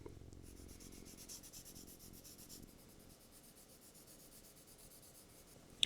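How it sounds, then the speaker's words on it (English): Colored pencil held on its side, shading a cardstock leaf for a paper lily of the valley: a soft, continuous scratchy rubbing, a little louder during the first half and then lighter, with a faint tap at the end. "I'm using the side of the colored pencil just to get some really good shading."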